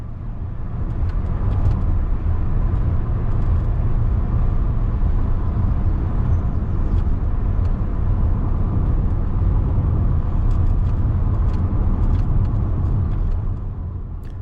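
A learner's own car without dual controls, in fifth gear with the clutch up, braking as it nears a multi-lane roundabout. Steady, loud, low road and engine rumble continues unbroken throughout.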